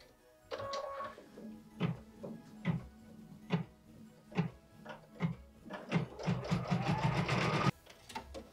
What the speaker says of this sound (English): we're going to return the hoop to the machine to stitch the roof detail and satin outline